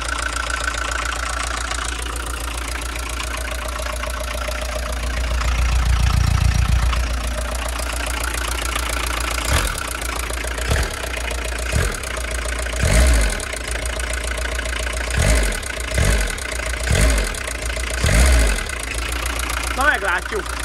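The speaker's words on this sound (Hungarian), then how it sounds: "most hideg a motor, azért ilyen hangos" A cold car engine idles loudly, a steady low rumble with a swell in the middle, joined later by a series of sharp knocks or clunks at irregular intervals over the running motor.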